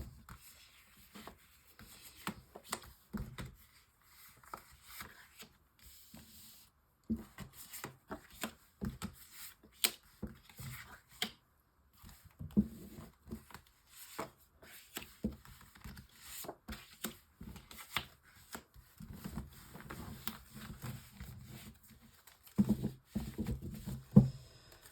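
Tarot cards are shuffled and drawn for a nine-card spread, with soft irregular rubbing, riffling and tapping of card stock close by, in bursts with brief pauses.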